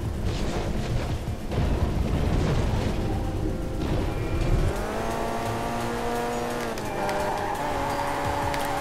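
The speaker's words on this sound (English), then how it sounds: "Now that's what you call a drift." A race car in Ridge Racer Unbounded drifts hard: a rumbling crash-like roar gives way to a loud, steady engine whine that bends in pitch as the car slides through the turn.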